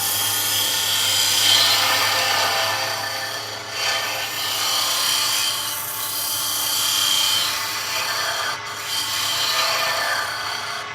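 A scraper cuts laburnum wood spinning on a woodturning lathe, a continuous loud rasping hiss with a low motor hum beneath, briefly dipping in intensity every few seconds as the tool shifts.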